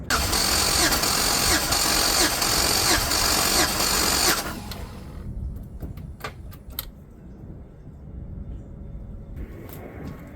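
Pontiac G6 engine cranking loudly on the starter during a compression test for about four seconds, a steady churning drone that cuts off abruptly, followed by quieter shop ambience and scattered clicks.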